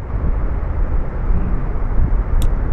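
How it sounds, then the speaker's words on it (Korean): A constant, loud gusting wind drone from the classic horror game Ao Oni fills the moment, deep and rumbling with a faint high chirp near the end, no one speaking. "바람 소리가 엄청 크지 않아?"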